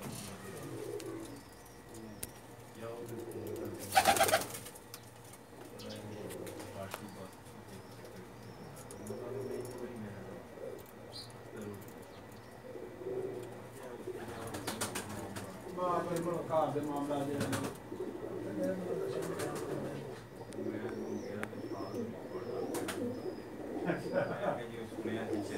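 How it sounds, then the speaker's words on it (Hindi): Pigeons coo softly and repeatedly on a rooftop loft in Jeddah, low burbling calls continuing throughout at moderate distance, with people talking faintly over them. "ये इनके कुछ कबूतर दिखा रहे हैं हम आपको।"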